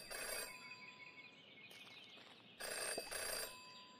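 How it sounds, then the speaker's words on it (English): A telephone rings in the video game Jenny LeClue, two electronic ring bursts with a pause between them, clear and fairly close against a quiet background. "In her short time as a detective, Jenny had learned never to ignore a ringing phone."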